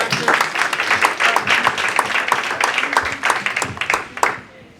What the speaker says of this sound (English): Clap it up for our dear